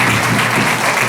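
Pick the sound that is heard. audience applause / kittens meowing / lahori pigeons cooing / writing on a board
audience applause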